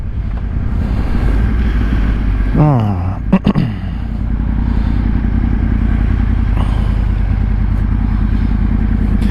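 A Yamaha R1 motorcycle being ridden, its engine a steady close drone throughout, with a brief whine of gear changes or revs partway through and a voice talking over it.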